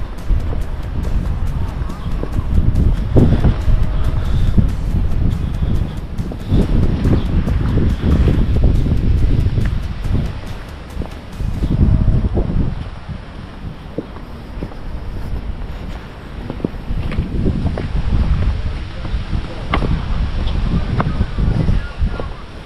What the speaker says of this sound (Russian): И на море слышно ветер